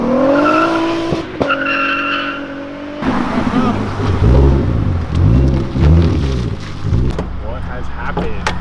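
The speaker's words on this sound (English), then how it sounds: "A little wheel spin." A 380 hp MK4 VR6 turbo GTI launching hard with wheel spin, its engine rising in pitch and its tires squealing loudly and repeatedly at close range, with people talking over it.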